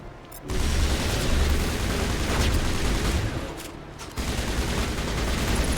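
Sustained gunfire from the Mass Effect video game, a dense continuous barrage of shots with a brief lull partway through, loud and close.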